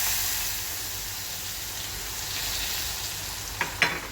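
Spring onion, sliced onion, green chillies and curry leaves fry in a pan with asafoetida, turmeric, bay leaf and red chilli, giving a steady close sizzle with a couple of sharp stirring clinks near the end.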